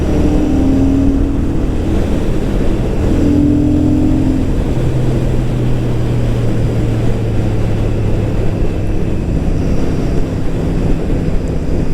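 A Royal Enfield Super Meteor 650 motorcycle is ridden in fourth gear as it picks up speed, its engine a steady loud drone smeared with heavy wind rush across the microphone.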